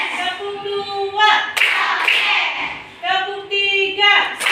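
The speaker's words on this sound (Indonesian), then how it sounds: "Konsentrasi kita tepuk tangan konsentrasi dulu." A class of fifth-grade pupils chants in unison and claps their hands together in a rhythmic concentration routine, with bursts of sharp, close group claps between the voiced counting.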